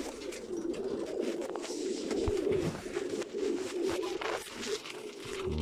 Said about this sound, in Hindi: बड़ा ही अच्छा कबूतर है, मेरा फेवरेट कबूतर है।